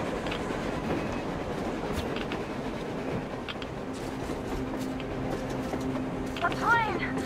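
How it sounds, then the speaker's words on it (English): A train rumbles past in the post-apocalyptic shooter Metro Exodus, a continuous moderate roar of rolling wagons with faint clatter and a brief metallic squeal near the end. "A train!"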